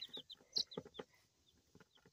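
Baby chicks peep in a quick series of short, high, thin chirps close by, with soft rustling and handling noises between the calls.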